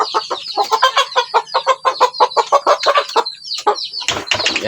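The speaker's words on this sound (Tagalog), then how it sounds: "Tapos yung isa natin na native dito, tumitilaok na to guys." A native rooster clucks and crows in a farmyard, a rapid run of close, loud, choppy calls followed by a brief burst of noise at the end.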